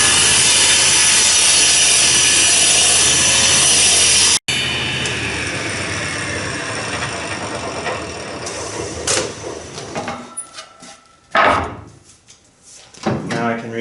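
Saw cutting wooden boards for a dinghy build: a loud, continuous whining cut that stops abruptly, followed by a quieter running sound, then scattered rubbing and knocks of wood being handled nearby.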